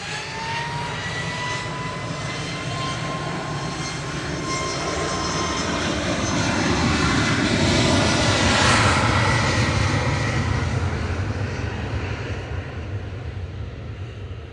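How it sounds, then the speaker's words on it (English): A Ryanair jet departs Manchester Airport bound for Cork, its engines a loud, steady broadband roar that swells toward the middle and holds strong to the end, with no talk over it. "Ryanair departing to Cork"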